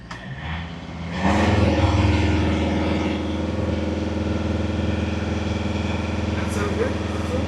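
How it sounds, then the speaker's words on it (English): A Volvo XC90 engine with a DPF fault idles, then revs up and holds at a steady higher pitch, loud and close, with a voice speaking briefly. "Let's hold the revs up a little bit"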